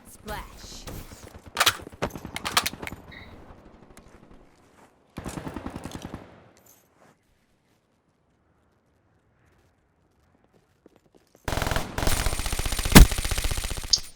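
Black Ops 3 gunfire from a video game, heard as bursts of rapid automatic shots separated by quiet gaps, with a louder, denser burst at the end and faint talk in between.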